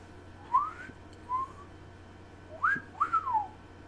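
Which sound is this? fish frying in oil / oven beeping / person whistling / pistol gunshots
person whistling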